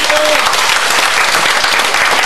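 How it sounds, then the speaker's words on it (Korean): A crowd applauds steadily, dense clapping filling the room with a faint voice underneath. "박수로 인사 나눠주십시오"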